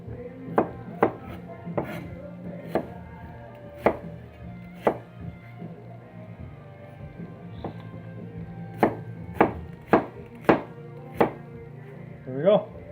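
A knife chops onion on a cutting board in uneven bursts of sharp, close strikes, several quick runs of blade knocks separated by pauses, with faint background noise between them.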